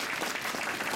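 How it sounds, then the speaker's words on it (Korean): A group of employees clapping together at a meeting, a brief burst of dense, steady applause lasting about a second. "이럴 때 박수도 한 번씩 치고."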